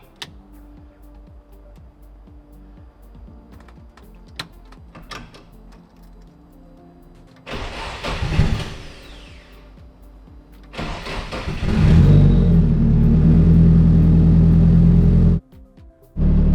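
A Nissan S14 engine cranks briefly and catches, then settles into a loud, steady idle that cuts off near the end before restarting.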